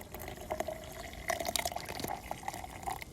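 Liquid poured into a bowl of oatmeal outdoors at a van campsite, a faint, close trickle with scattered drips and light splashes, no voices.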